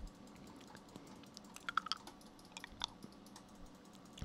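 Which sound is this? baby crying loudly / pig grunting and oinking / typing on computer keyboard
typing on computer keyboard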